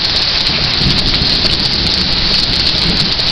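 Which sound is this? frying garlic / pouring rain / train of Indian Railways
pouring rain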